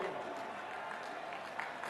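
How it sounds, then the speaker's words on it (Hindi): Applause from an audience at a political public meeting in Kartar Nagar, Delhi, during an election rally, a steady crowd clapping that fills the whole stretch at a moderate level. "तालियों से एक बार अभिनंदन कीजिएगा।"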